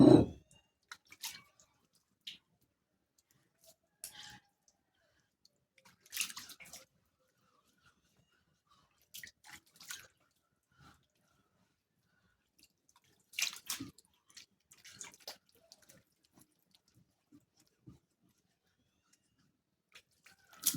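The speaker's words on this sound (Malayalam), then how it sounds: "കല്ലൊക്കെ നന്നായിട്ട് കഴുകണം നന്നായിട്ട് കഴുകിയിട്ടേക്കുന്നതാണ് എന്നാലും നല്ലപോലെ കഴുകാം" A stone grinding slab is washed with water, producing scattered splashes, drips and wet scrubbing bursts separated by quiet gaps, close and fairly soft.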